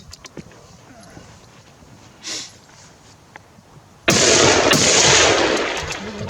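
A single loud rifle shot from a Tikka T3 CTR in .308 fired at a 15x15 cm steel plate cracks out sharply and rings on, following a quieter stretch with a faint earlier pop.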